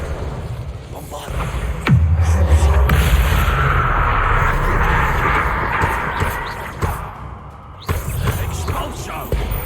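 Spell blast in the Hogwarts Legacy video game: a heavy booming explosion with a sharp onset, a dense rumbling body that lasts several seconds and then a second hit near the end, over a busy combat soundscape.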